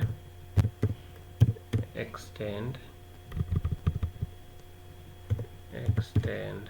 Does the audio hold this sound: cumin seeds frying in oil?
no